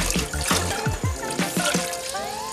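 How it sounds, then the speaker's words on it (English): Water is added to a thick stew for Ghanaian waakye street food, heard up close as a short run of glugging, splashing pours with rising tones. "the stew is a little bit thick, so we have to add a little bit water."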